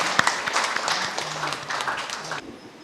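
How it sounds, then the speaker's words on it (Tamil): An audience claps at an outdoor church chariot festival Mass for a small chapel's 80th anniversary, a dense patter of hands lasting a few seconds before tapering off abruptly, with a faint voice underneath. "எல்லாருக்கும் ஜோரா கைத்தட்டி நாம் பாராட்டுவோம்."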